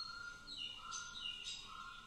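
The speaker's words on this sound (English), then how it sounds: "So that's actually a partridge call." A partridge calling, heard as faint, thin chirping notes over a steady background hiss, a few short calls spread across a couple of seconds.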